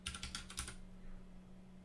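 Quick burst of keystrokes on a computer keyboard, several clicks in fast succession, then quiet room hum.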